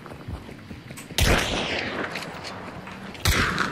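Heavy gunfire in Hunt: Showdown, two loud booming shots a couple of seconds apart, each ringing out with a long rumbling tail over faint background game noise.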